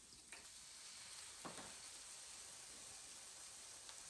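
Tomatoes and garlic fry in a paella pan for Spanish seafood paella, a steady soft sizzle throughout with a few light stirring clicks and scrapes, fairly faint and with no talking.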